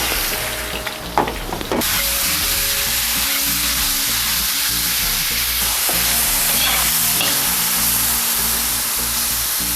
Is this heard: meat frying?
yes